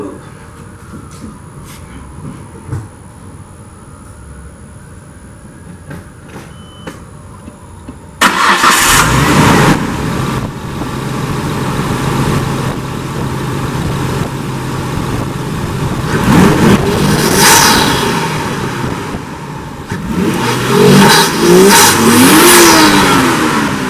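A Nissan R33 Skyline fitted with a Greddy air intake starts abruptly after quiet garage ambience, then idles and revs loudly up close, its pitch rising and falling with several throttle blips.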